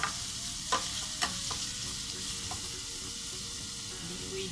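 Garlic sizzling steadily in a hot pan as it is stirred, a continuous close crackle broken by a few sharp scrapes of the spoon.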